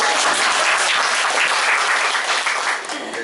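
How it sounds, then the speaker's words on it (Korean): Loud, dense applause from a church congregation during worship fills the room, with clapping that eases off slightly toward the end. "감사합니다. 박수!"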